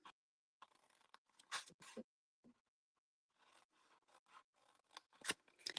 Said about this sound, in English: Let me get my paper snips